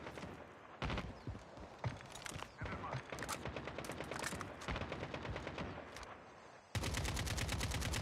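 Gunfire in the mobile shooter Call of Duty Mobile DMZ: dense bursts of rapid automatic shots and single cracks throughout, ending in a loud sustained burst, with speech-like game audio mixed in.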